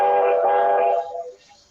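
A single loud, steady whistle blast, tonal and sustained for about a second, then cut off with a brief fading tail.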